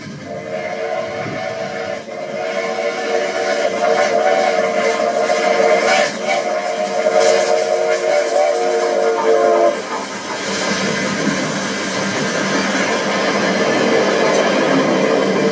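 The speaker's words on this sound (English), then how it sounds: "a Santa Fe freight leads its manifest through farmlands toward Chicago" A Santa Fe freight train hauling its manifest through Illinois farmland rumbles past loud and close, with a sustained horn blast over the rolling clatter of cars before the horn cuts off and the heavy rumble continues.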